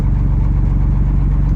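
Cabover truck engine running steadily while building air pressure for the trailer brakes, a loud, close, continuous low rumble with no voices.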